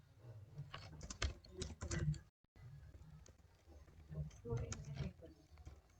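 Address text typed on a computer keyboard in MS Word, with bursts of close key clicks, a brief pause, then more rapid tapping, mixed with speech.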